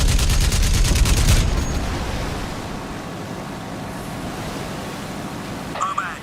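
Bombs are blown up in a PC shooter game: a loud, rumbling blast opens and then fades into a long, noisy decay, with a small clatter just before the end.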